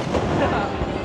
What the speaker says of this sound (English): we got fireworks happening here